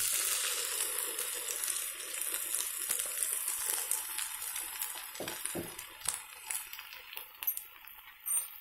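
Gongura paste fries in a pan for a dried prawn curry, giving a steady hiss and sizzle broken by a few clinks and scrapes of a utensil stirring, with no talking.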